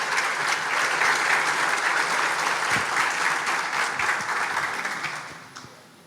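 Loud, sustained audience applause fills the room as mayor Coronel Fábio is called to the stage at a regional mayors' debate dinner, a dense clapping wash that holds steady before fading out near the end.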